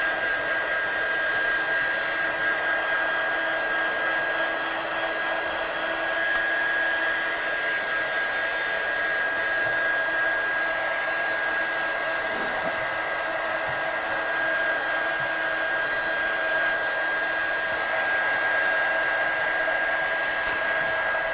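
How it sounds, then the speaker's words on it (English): A heat gun blows hot air over freshly stamped ink during card stamping and watercolouring, a steady, loud whooshing roar that runs unbroken and close throughout, with no talking. "a good old trusted heat gun"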